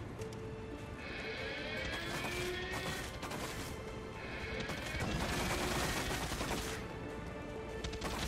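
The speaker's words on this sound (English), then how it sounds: "Somebody keep shooting me." Enemy gunfire in Far Cry 6, faint bursts of rapid shots and cracks rattling at a distance, coming in clusters over a steady background.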